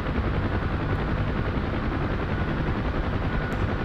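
Inside a UH-1 Huey helicopter in the DCS flight simulator, the rotor and turbine roar as a loud, steady, unbroken drone, with no talk.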